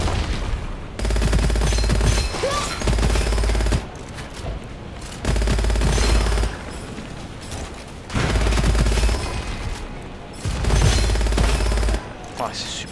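Loud bursts of machine-gun fire in the roguelite first-person shooter Gunfire Reborn come in four long sustained volleys separated by short gaps, with a player's voice talking in between.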